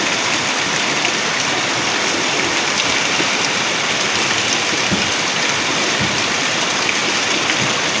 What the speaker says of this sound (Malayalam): നല്ല മഴ പെയ്തുകൊണ്ടിരിക്കുന്നുണ്ട്.